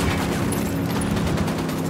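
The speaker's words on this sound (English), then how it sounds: "Opening fire." Gunfire in the open-world shooter game Ghost Recon Wildlands: a sustained, loud fusillade of rapid overlapping shots that holds steady for the whole stretch, close and unbroken.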